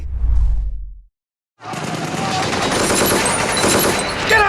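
Rapid bursts of machine gun fire from a John Wick action movie scene erupt after a brief silence, dense and continuous with whooshing bullets and a loud final burst.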